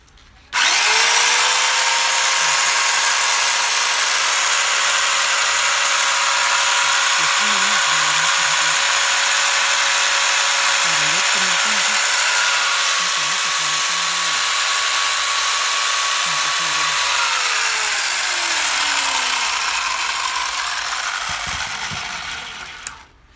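A PERFECT 11.5-inch electric chainsaw switches on and runs with a steady, loud, high motor whine for about twenty seconds, then spins down with a falling pitch before going quiet.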